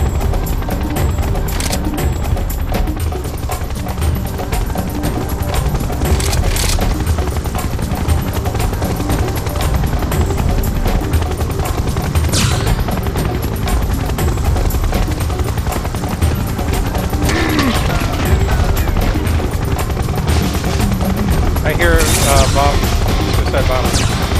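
Loud, continuous gunfire and automatic bursts crackle around a helicopter in the Serious Sam 3 BFE co-op shooter, a dense battle din that runs throughout with players talking intermittently underneath.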